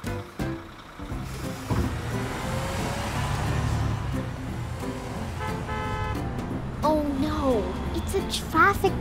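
A red car engine rolls past in a traffic jam, with a horn-like toot near the end and voices talking over it.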